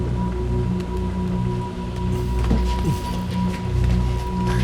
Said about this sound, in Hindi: काफी देर हो गई है और बारिश भी रुक नहीं रही है।